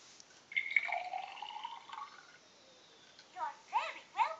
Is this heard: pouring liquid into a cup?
yes